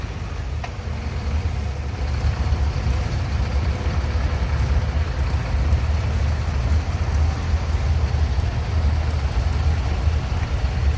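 A 1954 Farmall Super H antique tractor rolls by in a parade, its engine giving a steady, loud low rumble that stays constant for the whole stretch, with no voices heard.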